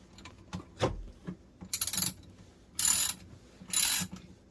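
A socket wrench ratchets while a kitchen sink garbage disposal is screwed into place. Three short clicking ratchet bursts come close by, with light knocks and handling noises between them.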